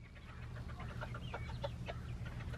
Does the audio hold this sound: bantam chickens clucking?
yes